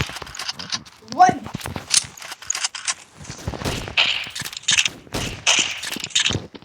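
Automatic rifle fire in the Counter-Strike video game comes as repeated sharp bursts of shots, loud and irregular, mixed with other gameplay sounds.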